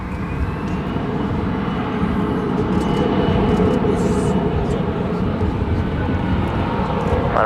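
Jet airliner takes off from runway 18 left at Dallas-Fort Worth International Airport, a loud, steady broadband engine roar that holds throughout.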